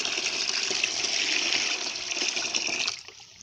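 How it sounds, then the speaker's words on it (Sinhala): Water is poured steadily into a strained neem mixture, four litres in all, to make a home-made Coco Plus preparation. It is a continuous close gushing splash that thins out and stops near the end, with no talking. "එකතු කරලා අපි වතුර ලීටර් 4ක් මේකට මෙහෙම එකතු කරගන්නවා."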